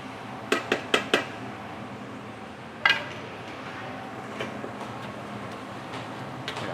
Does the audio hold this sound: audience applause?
no